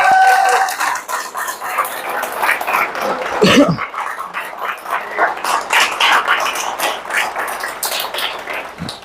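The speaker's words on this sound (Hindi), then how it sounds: "तालियां बजा रहे हो तुम" An audience claps together at a talk, a dense and steady wash of applause that holds fairly loud for several seconds before thinning slightly.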